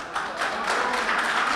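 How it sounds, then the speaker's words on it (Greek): Audience applause during a Greek political campaign speech, a short burst of clapping from a crowd, fairly loud and continuous with no talk on top. "Δεν θέλω χειροκρότημα."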